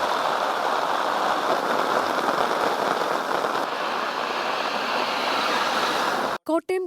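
Heavy rain pours steadily in Kerala during a storm, a dense, loud hiss of falling water with wind, unbroken until it cuts off abruptly near the end.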